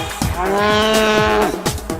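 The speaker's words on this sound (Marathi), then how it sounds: "गाय भैंस रंभाती है" A cow gives a long, loud, deep moo lasting over a second, close by, with no talking.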